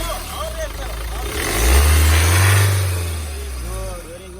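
A 2019 Mahindra Scorpio S5 with 52k km revs once, its engine note swelling to a deep roar midway and then easing back to idle, with faint voices around it.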